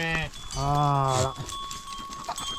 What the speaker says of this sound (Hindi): यहाँ पे बकरियाँ बहुत हैं।